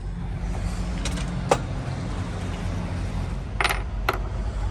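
Long-handled cutters snip through a trailer lock seal beside an OTR truck, giving a few sharp metallic clicks and snaps over a steady low engine idle.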